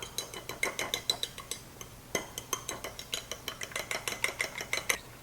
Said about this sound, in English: I'm going to take my fork and beat this together.